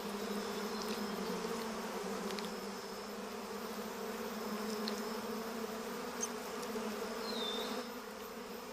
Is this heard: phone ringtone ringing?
no